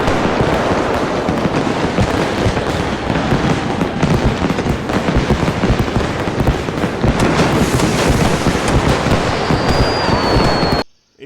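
Fireworks going off in the game Fireworks Mania, a dense, continuous barrage of bursts, pops and crackles filling the whole stretch at high loudness, with a rising whistle near the end before it cuts out.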